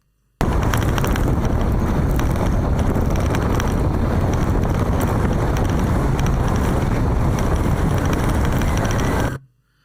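Loud, constant wind buffeting a microphone on a very windy, rocky spot, a heavy roaring rumble that lasts throughout with no pauses.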